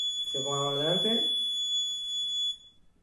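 The alarm buzzer of a perimeter barrier sounds as one steady, piercing electronic tone for about two and a half seconds before stopping abruptly, with someone talking over its start.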